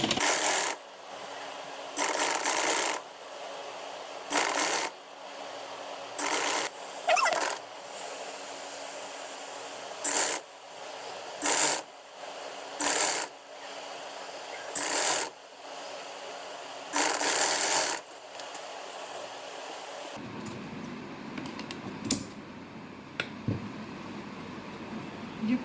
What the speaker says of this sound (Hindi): मैंने इसको यूँ ऊपर से सिलाई लगा देनी है